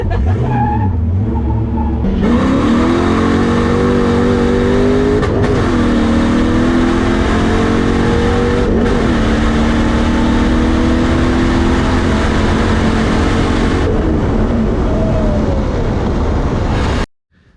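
An LS V8-swapped BMW E30 drives on dusty roads, its engine revving hard and holding a loud, sustained roar with a few brief shifts in pitch, then cutting off abruptly at the end.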